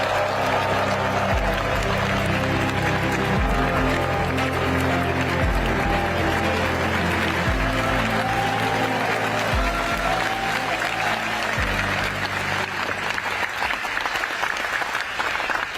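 Sustained audience applause in a provincial hall in South Jeolla Province welcoming Prime Minister Kim Min-seok, steady and loud throughout with a strong musical fanfare playing underneath.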